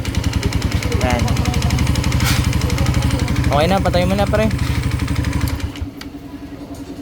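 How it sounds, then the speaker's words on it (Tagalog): A Suzuki Raider FI motorcycle with piston slap and connecting rod knock idles with a rapid, rhythmic deep knocking while someone talks over it, then the engine cuts off and a faint hum remains. "Yan ang tunog ng piston slap tsaka connecting rod."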